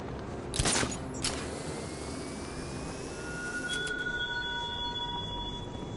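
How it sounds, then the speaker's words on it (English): Train wheels squeal on rusty tracks in the video game Batman: Arkham Knight, with a rumbling rail bed, a couple of sharp clanks early on and thin, high screeching tones sustained through the latter half. "The train!"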